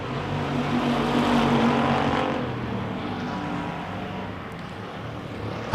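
Pure Stock race cars roar around a dirt oval at a Wissota track event, a dense, loud, continuous engine drone from several cars that swells and gradually fades as the pack passes.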